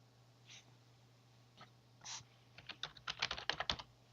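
Typing a full name on a computer keyboard during a Ubuntu 16.04 server install: a few isolated taps, then a quick burst of close, crisp keystrokes over a low steady hum.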